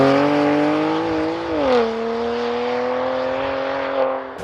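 A BMW M2 Competition fitted with a Milltek equal-length exhaust drones steadily at a smooth, sustained pitch, dipping briefly as revs change, then settling into a loud, continuous tone nearby.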